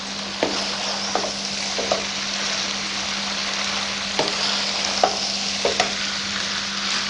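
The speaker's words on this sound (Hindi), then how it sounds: "अच्छे से इसकी भुनाई हो जाए।" Vegetable spaghetti is stir-fried in a pan over a medium-low flame: a constant soft sizzle with a low hum beneath, and occasional sharp scrapes and taps from the spatula.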